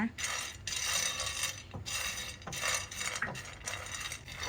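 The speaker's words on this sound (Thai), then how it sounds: "นำถั่วลิสงซีกมาคั่วให้หอมนะคะ" Split peanuts dry-roasted in a pan, stirred in repeated scraping sweeps with rattling nuts and metal utensil clinks, rhythmic and close.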